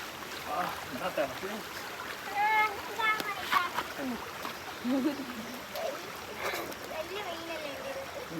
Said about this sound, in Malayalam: ഈ പാറക്കെട്ടിൻ്റെ ഉള്ളിലോട്ടെല്ലാം ഇങ്ങനെ വെള്ളം ഒലിച്ചു പോകുന്നതിൻ്റെ ഒച്ച